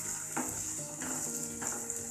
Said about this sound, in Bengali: আলু আর গাজরগুলো আমি তেলের মধ্যে ছেড়ে দিলাম।